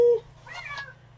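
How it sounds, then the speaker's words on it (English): A pet cat gives a single short meow, close and moderately loud, after a brief noise at the start, with nobody talking. "So she's a very talky cat."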